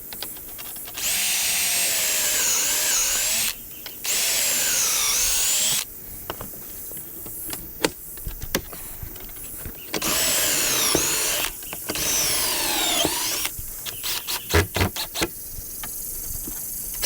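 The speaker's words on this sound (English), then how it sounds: "I want to drill at an angle." A power drill drills angled pocket holes in wood for a truck bed frame, whirring in several bursts of a few seconds each, with clicks, knocks and wood-handling noises between the runs.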